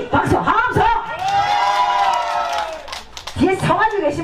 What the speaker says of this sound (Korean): 시 박수 함성